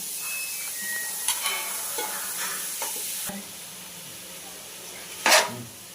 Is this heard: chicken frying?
yes